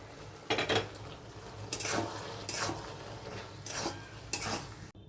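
Soybean chunks tipped into a pan and stirred for chilli soybean, with bursts of scraping and clattering against the metal over a soft sizzle, several separate strokes in close succession.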